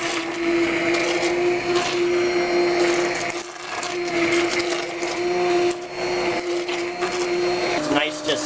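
An immersion blender set on high purees asparagus soup in a pot, giving a loud, steady motor whine with a churning wash that runs unbroken throughout, briefly dipping once midway.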